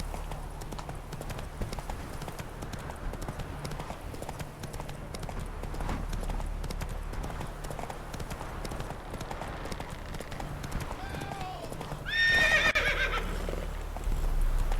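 Horse hooves clip-clopping at a steady gallop in The Witcher 3, over constant low game ambience, with a loud whinny near the end.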